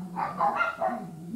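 Barks come in a quick series of three or four from a dog outside next door, muffled by distance and walls, with no talking over them.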